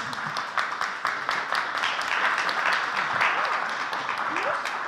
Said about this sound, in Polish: W tym miejscu zawsze są oklaski.